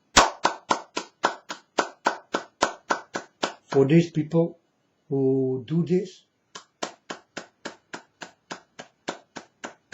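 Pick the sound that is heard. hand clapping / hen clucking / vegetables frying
hand clapping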